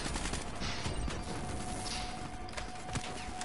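Co-op video game combat against robots, with a dense, steady rattle of gunfire and scattered impacts filling the whole stretch, loud and continuous, with no talking.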